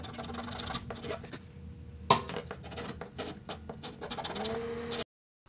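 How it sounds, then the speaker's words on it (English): Hand tools cut a small recess into the end of a wooden handle on a Daisy Red Ryder Model 10 carbine, close scratchy rasping strokes with one sharp knock partway through, ending abruptly. "cut a small recess in the end of the handle where the metal clip holds the front to the barrel of the gun"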